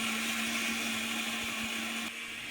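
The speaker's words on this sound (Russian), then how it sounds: "Так лучше молотится рис в блендере." A kitchen blender grinds rice soaked in hot water, a steady, loud, high-pitched whirring that runs without pause and drops slightly in pitch near the end.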